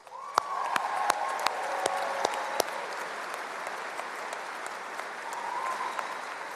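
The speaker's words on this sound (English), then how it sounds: "and they deserve our applause" Audience applause at the Baldwin Wallace University commencement ceremony, a broad wash of clapping across a large hall, with a few sharp individual claps standing out near the front.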